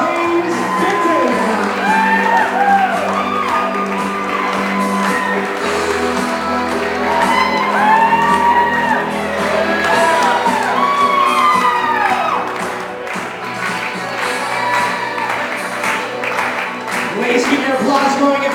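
Wedding guests applaud and cheer loudly for the newlyweds, a dense sustained crowd of clapping, whoops and shouts filling the room with no break, while an amplified voice carries over the noise.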